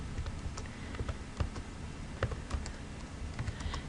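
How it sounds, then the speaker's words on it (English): Quick keystrokes on a computer keyboard as numbers are entered, irregular close clicks in short bursts over faint room hum, with no voices. "So I'm just going to quickly type those in."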